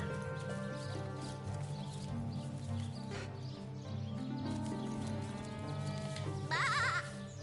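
Sheep bleat in the video game Divinity: Original Sin Enhanced Edition amid a layered, synthetic-sounding background, with a shrill wavering bleat near the end standing out over steady tones.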